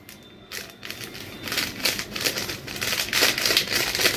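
A packet of instant yeast crinkles and crackles in the hands while dough ingredients are prepared, a steady papery rustle that grows louder and busier after the first half second and continues to the end.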